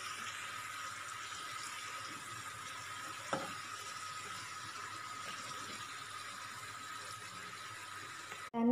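Maida chips deep-frying in hot oil until brown give a steady, fine sizzling hiss throughout, with a single brief clatter partway and a louder knock at the very end.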